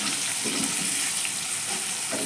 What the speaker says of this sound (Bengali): পেঁয়াজটা একটু ভাজা ভাজা হওয়া পর্যন্ত অপেক্ষা করে নেব